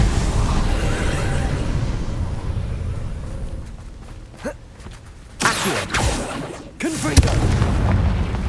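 A Bombarda spell blast in Hogwarts Legacy, heard as two loud bursts about a second apart that flare up sharply over a steady rumbling game ambience, with no one talking.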